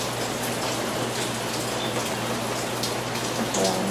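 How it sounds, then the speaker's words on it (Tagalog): Steady rain falls outside as a continuous, even hiss of drops, moderately loud and unbroken, with no voices. "Ayan, maulan."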